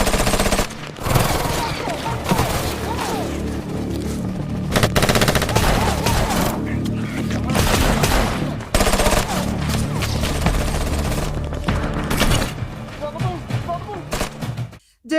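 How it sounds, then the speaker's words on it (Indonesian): Bursts of gunfire ring out during a chase shootout in an action film, loud and dense against a full soundtrack of music and effects, with volleys recurring throughout. "Di sana aksi kejar-kejaran disertai adu tembak pun terjadi."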